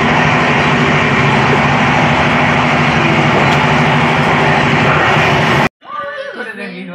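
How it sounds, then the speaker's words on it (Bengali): A local train rolling out of Bardhaman, with a steady loud broadband rumble and clatter of the carriages filling most of the span, then cutting off near the end as a person starts talking. "এক্সপ্রেস ট্রেন থেকে নেমে আবার আমরা লোকাল ট্রেন ধরে নিয়েছি বর্ধমান থেকে।"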